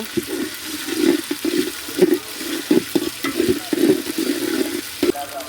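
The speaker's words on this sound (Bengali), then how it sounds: "দিয়ে দিলাম পানি" Water rushes into a pot of onions fried with ginger paste for village-style bhuna khichuri, setting off a loud, choppy sizzle and splashing that runs for several seconds in uneven bursts, with no talking.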